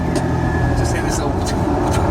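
Small turbocharged 0.6 litre three-cylinder engine of a Smart City Pulse, a steady low rumble running close and continuous, with a faint whine on top and voices or other background sounds mixed in.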